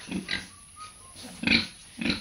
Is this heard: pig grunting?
yes